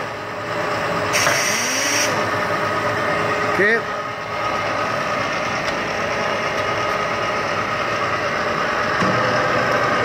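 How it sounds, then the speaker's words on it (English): Electric motor of a Willis Series II type knee mill, model 5000VS, hums steadily and close throughout, with a brief mechanical whine near the start and a short spoken word over it. "Everything's powered off this motor. That's a big motor on there for running that."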